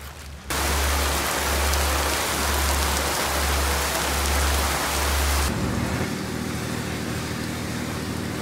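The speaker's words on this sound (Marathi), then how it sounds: "कारण की पाऊस खूप आहे माथेरानमध्ये" Heavy monsoon rain pours down in the hill station of Matheran, a loud, steady, close roar that shifts to a slightly different texture partway through, with a low pulsing hum beneath it.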